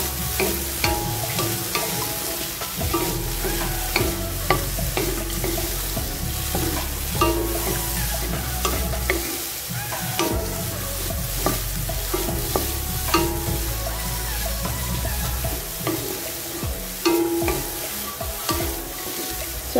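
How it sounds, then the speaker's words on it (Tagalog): Kamaro (mole crickets) dry-roasting in a pan for an Ilocano dish, with a utensil stirring them in steady, repeated scraping strokes over a soft crackle for about twenty seconds, close and fairly loud, with no talking. "Haluin po natin siya ng haluin para hindi po masunog yung ilalim."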